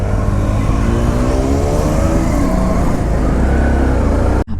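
Honda CB350 and Royal Enfield Standard 350 motorcycles revving loudly close by as they pull away together, steady engine roar throughout that cuts off abruptly at the end.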